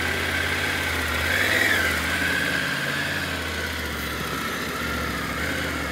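A parked motorcycle engine idles steadily close by, a constant low rumble with a droning mid-range hum that holds at an even level throughout, with no voices.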